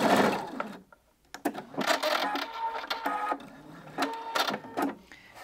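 A sewing machine stitches bias binding onto a dress neckline in short, rattling bursts separated by brief pauses, close and fairly quiet.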